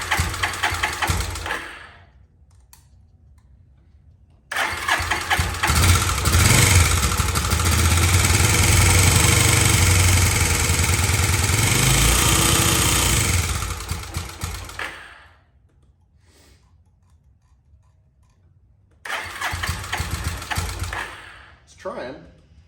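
An abandoned motorcycle engine with a low idle coughs into life, runs roughly for about ten seconds, dies away, then briefly catches again near the end, close by.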